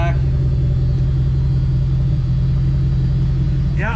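A car engine idles steadily and loudly up close, a deep continuous rumble that holds even, on a vehicle being checked for an ignition misfire and fitted with big traction bars.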